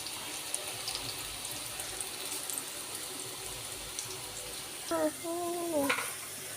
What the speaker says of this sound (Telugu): చూడండి ఫ్రెండ్స్, పకోడీ అయితే వేగుతుంది